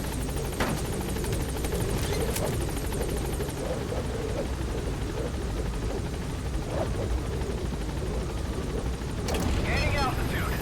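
The Pequod helicopter from Metal Gear Solid V drones steadily with a loud, continuous rotor roar, with a voice speaking over it.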